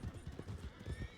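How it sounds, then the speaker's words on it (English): Wild horses in a video game, with quick clip-clop hoofbeats in a brisk rhythm and a neigh mixed in, heard close but at modest volume. "Horses. Wild horses."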